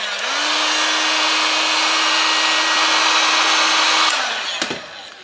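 A heat gun or hot-air tool blows steadily around the screen edge of a GoPro Hero 9, a loud, close whooshing hum with a constant tone that winds down near the end, followed by a few light clicks.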